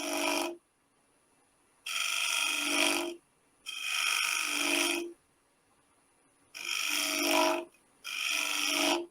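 A small half-inch round nose scraper, held up on a skew, shear-scrapes wood on a lathe, giving five loud, ringing, rasping bursts separated by short silences, with no talk.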